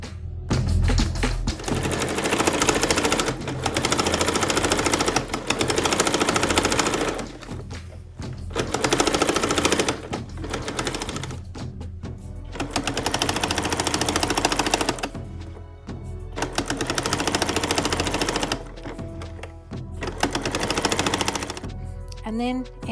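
A sewing machine stitches the seam shut on a zipper pouch in bursts of rapid, loud rattling, broken by short pauses, with a voice talking in some of the gaps.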